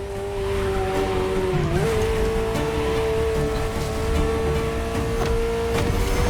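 A Ferrari sports car in The Crew Motorfest video game drives with a steady, sustained engine drone that holds one pitch, with a brief shift partway through, loud and continuous with no talk.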